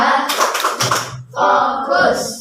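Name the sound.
group rhythmic clapping, 'tepuk fokus' clap routine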